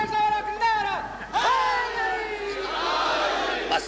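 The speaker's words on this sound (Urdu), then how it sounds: "بس نعرے ذرا کم لگائیں" A crowd at a Majlis e Aza gathering shouts religious slogans in loud, overlapping bursts of raised voices, surging twice over a few seconds with brief dips between.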